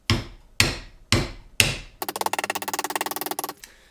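A hammer strikes a 3D printed TPU auger housing skid, printed vertically, on its thin back side: four sharp separate blows, then a rapid burst of about twenty quicker hits rattling in a close, loud rhythm before stopping.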